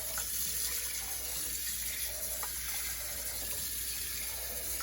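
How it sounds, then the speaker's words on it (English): Tap water runs steadily into canning jars that already hold vinegar, a continuous faint splashing hiss filling the whole stretch with no pauses. "What I'm gonna do now is just put 1 inch or so of water in each jar."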